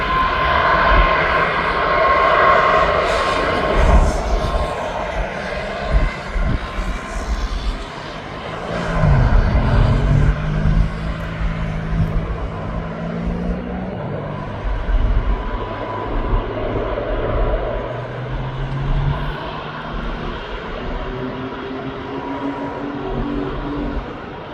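A Jet2 airliner lands at East Midlands Airport, its jet engines roaring loud and steady before the pitch drops into a deep rumbling whine as it rolls down the runway.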